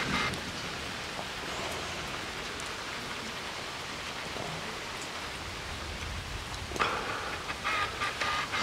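Steady rain falls in a constant hiss, with a few brief bird calls and a louder rustle near the end.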